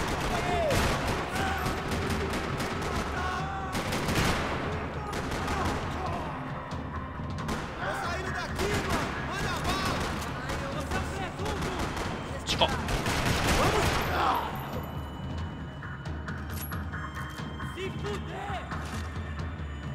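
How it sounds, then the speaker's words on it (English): Video-game gunfire crackles across a parking lot in dense bursts of rapid automatic shots and heavy impacts, loud and nearly continuous, with voices talking underneath. "Another parking lot rattling with gunfire."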